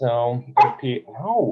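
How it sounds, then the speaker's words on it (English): A pet dog barks a few times at home during an online school board meeting, short yips mixed in with nearby talking voices. "Sorry about my dog."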